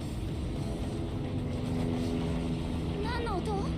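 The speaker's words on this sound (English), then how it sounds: "we gotta shoot down the helicopter now?" A video game helicopter drones steadily as a loud, dense rotor and engine rumble that fills the whole clip, with a few short sweeping electronic tones near the end.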